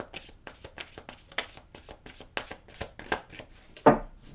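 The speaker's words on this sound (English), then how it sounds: "And one more little shuffle here for Pisces." Cards riffle and snap in a rapid series of crisp bursts, close up, ending with a sharper slap as the deck is squared.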